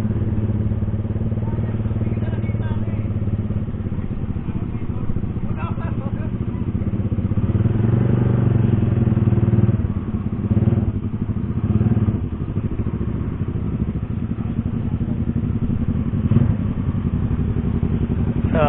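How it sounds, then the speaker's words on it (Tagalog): A motorcycle idles at a parking area near Twin Falls in Kalayaan, Laguna, a steady low engine rumble heard close, running throughout under a person talking. "Ito yung motor oh."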